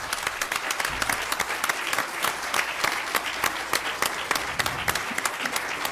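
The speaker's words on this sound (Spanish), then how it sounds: "Un aplauso, por favor." Steady applause fills a congress hall on judicial independence, dense clapping from a seated audience holding an even level throughout with no speech over it.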